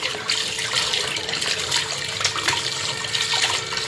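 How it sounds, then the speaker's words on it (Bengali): Running water pours steadily over fish being rinsed before cutting, a continuous splashing wash like a tap stream in a sink, close and fairly loud with no talking. "এখন মাছগুলো ভালো করে ধুয়ে নিব, ধুয়ে তারপরে কেটে নিব।"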